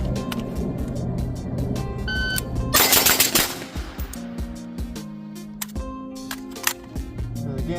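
A quick burst of 7.62 rifle shots fired through an Otter Creek Labs Infinity suppressor on an FCD/Revival Defense 3 Prong mount, loud and close, with cracks tightly clustered near the middle and quieter clatter and ringing tones after.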